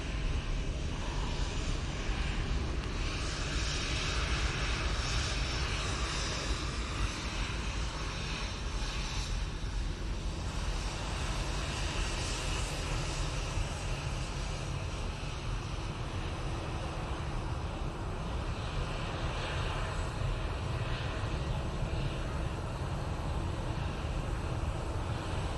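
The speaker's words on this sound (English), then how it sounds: "So it's Ryanair going off to Palma de Mallorca." A Ryanair jet departing Manchester Airport for Palma de Mallorca, a continuous broad engine roar that stays loud and steady from start to finish, mixed with wind rumble.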